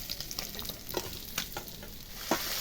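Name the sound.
fish frying in oil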